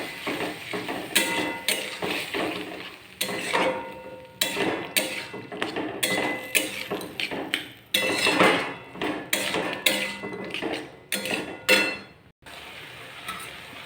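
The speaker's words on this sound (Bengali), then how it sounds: "সামান্য জল দিয়ে আলু ও মটরশুঁটিকে কষিয়ে নেব।" Potatoes and peas sautéed with a little water in a pan, heard as repeated close metallic scraping and clattering of a utensil against the pan in irregular bursts with short pauses.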